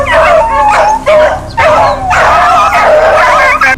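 Hadza hunting dogs bark and yip in loud, close, repeated bursts, with whimpering between the barks.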